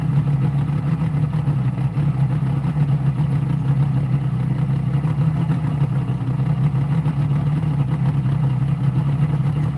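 A portable two-stroke engine runs in cold weather, giving a steady, droning hum with a faint rattle that stays even and unbroken throughout.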